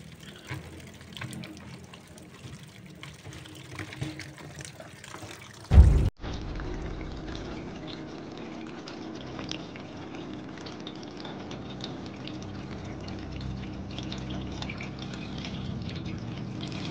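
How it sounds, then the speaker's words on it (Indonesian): Water runs steadily from a tap, splashing onto pieces of young jackfruit being rinsed in a sink; a brief louder gush and clunk near the middle, then continuous flow. "nangka kita cuci bersih, guyur sama lalu kita tiriskan"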